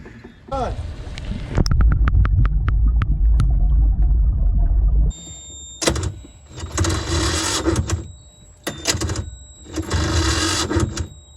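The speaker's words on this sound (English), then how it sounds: "this whole platform is going to move out and go into the water" A boat's motorized swim platform lowering out into the water: a steady low mechanical hum with a rapid series of clicks, followed by louder broadband bursts that come and go, with voices nearby.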